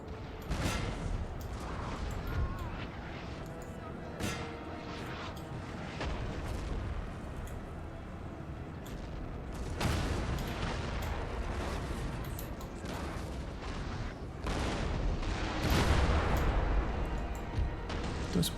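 Artillery and musket fire in a Napoleon: Total War battle, rolling booms and cracks of cannon fire, some near and some distant, continuing over a steady battlefield din, with heavier blasts in the later part.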